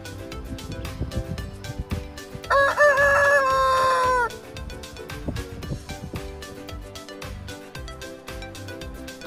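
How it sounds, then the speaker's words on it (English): A rooster crows once in a long, bright call in the middle, surrounded by scattered clucks and farmyard noise in the background. "H for hen"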